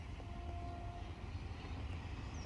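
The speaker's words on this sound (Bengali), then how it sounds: "কত বড় ট্রেন যাচ্ছে" A large train passes along a railway line beside a village pond, a steady low rumble and rolling drone that fills the whole clip at moderate distance with no talk over it.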